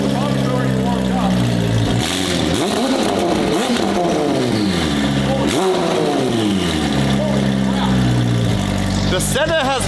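A straight-piped McLaren Senna hypercar engine fires up nearby and revs hard, its loud roar climbing and falling through repeated blips while people talk close by.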